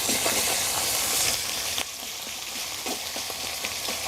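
Spices including chili powder, garlic, ginger, cumin and garam masala paste being stirred in a pan for mutton kachchi biryani, a steady close sizzle and frying hiss with scraping stir strokes throughout, no voices.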